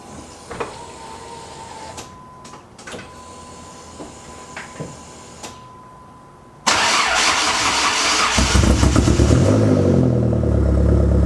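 A 2014 Jeep SRT8 fitted with an aFe catback exhaust cranks and fires up with a sudden loud roar, then settles into a heavy, rumbling idle; quiet garage clatter and faint clicks come before the start.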